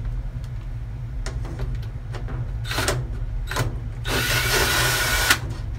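A power drill runs in reverse, backing screws out of a GE washer in short whirring bursts over a steady low hum, finishing with a longer, louder run.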